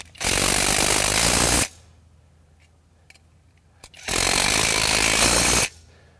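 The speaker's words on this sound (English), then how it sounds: "So just reverse order, gonna tighten our 17 millimeter nuts." Two loud, sustained bursts from a power tool tightening the 17 mm blade nuts on an EGO Select Cut XP 21-inch 56V self-propelled mower, each lasting about a second and a half, with a quiet pause and faint clicks between them.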